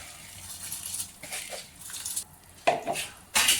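Close metallic clatter and a soft rushing pour as rice goes into a pot of boiling water for coriander rice, a few distinct bursts with quiet gaps between.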